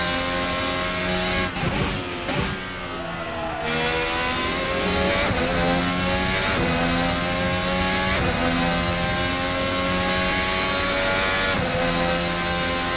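Modern Formula 1 car in a racing video game, its high-pitched engine screaming continuously as it accelerates and shifts through gears while overtaking on track, loud and close throughout with no talk.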